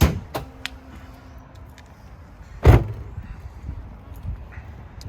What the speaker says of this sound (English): So I'll pop the hood and I'll show you